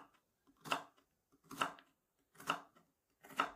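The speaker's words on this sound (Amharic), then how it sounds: "እየከተፍን እንደዚህ እያደረግን በስሱ እንከትፋለን ማለት ነው።" A knife slices thin rounds of fresh okra on a board in four evenly spaced, crisp cuts, close and quiet, with silence between each stroke.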